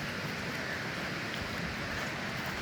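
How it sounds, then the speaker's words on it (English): Steady rushing and trickling of storm water running down a track, a continuous broadband wash with no break and no voices, close by. "The water's running down"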